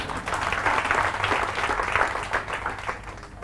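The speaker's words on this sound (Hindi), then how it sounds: "तो इनके लिए तालियां बजाओ एक बार" A seated audience at a business seminar breaks into a short burst of loud, dense clapping that rolls on steadily for a few seconds.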